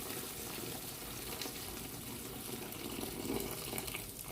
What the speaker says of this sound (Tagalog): Ngayon, mag-add tayo ng mainit na tubig na para sa